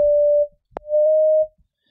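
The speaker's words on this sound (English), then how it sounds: "I'm just show you this whistle. Sine wave real high up." A pure, steady high-pitched sine wave synth tone held for about half a second, a brief click, then the same whistle-like tone again for half a second.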